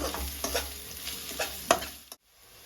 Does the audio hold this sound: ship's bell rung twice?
no